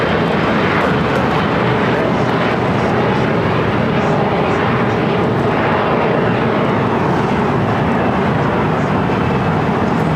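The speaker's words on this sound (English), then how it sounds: "SAS A350 arriving on the north side." An SAS Airbus A350 airliner arrives at LAX, its engines a loud, continuous roar that holds steady throughout, with a voice faintly underneath.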